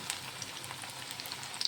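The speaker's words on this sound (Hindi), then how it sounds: "इस तरह से हम इसको एकदम दोनों साइड से अच्छी तरह से एकदम इसको गोल्डन फ्राई कर लेंगे।" Bottle gourd koftas fry in hot oil, giving off a faint, steady sizzle with small crackling pops, close by and with no voices.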